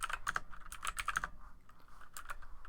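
Typing on a computer keyboard in a short close run of quick keystrokes, a dense cluster at first, then a few scattered taps.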